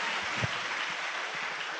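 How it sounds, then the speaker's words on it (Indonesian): Applause for a speaker at a motivational business seminar, a brief, even hiss of many hands clapping with a faint thump or two, no voices. "Tepuk tangan buat beliau"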